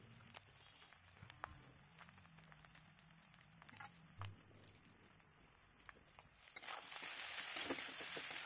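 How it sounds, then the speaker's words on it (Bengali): Rice frying on a high flame with salt, turmeric and chili sizzles as a faint, steady hiss with scattered crackles and occasional stirring scrapes, swelling louder toward the end. "দিয়ে এটাকে হাই ফ্লেমেই একটু ফ্রাই করে নিতে হবে।"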